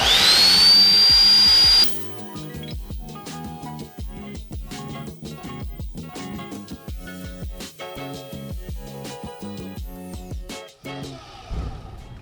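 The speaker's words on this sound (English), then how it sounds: "Great, clean miter cut on the beast." A BEAST 7-inch wet tile saw whines at high pitch, then drops into a steady grinding hum as the blade bites into tile for a miter cut, with rapid scraping and ticking clatter running through the cut.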